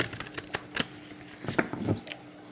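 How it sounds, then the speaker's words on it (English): Playing cards are riffled and shuffled up close, several quick crisp bursts of flicking paper with brief pauses between them. "ruffle, shuffle the cards"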